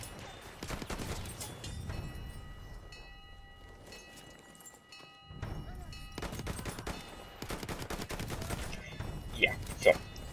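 A Sweeper gun in Battlefield 1 fires long full-auto bursts of rapid, loud shots, broken by short pauses, with game sounds around them and a brief quiet gap in the middle.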